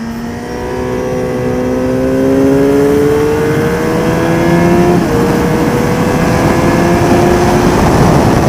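Motorcycle engine at steady high revs on the Le Vigeant race track, loud and close, with pitch climbing and shifting through gear changes and the throttle barely closed through a corner.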